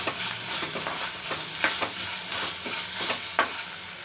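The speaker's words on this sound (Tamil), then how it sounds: "பட்டாணியும் போட்டு வதக்கிக்கலாம்." Green peas sauté in a hot pan with oil, ginger and garlic paste for potato peas masala, giving a steady soft sizzle broken by irregular stirring scrapes and taps, with no talk.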